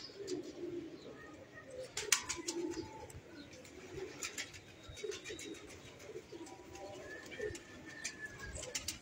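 A female racing pigeon in a cage gives soft low cooing calls under faint background chirps and a few sharp clicks, heard close and quiet with no speech.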